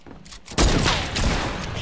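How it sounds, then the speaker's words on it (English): In Fortnite, a quiet moment breaks into a loud, close burst of gunshots that rings out and keeps crackling to the end. "I shot my bullet through your window"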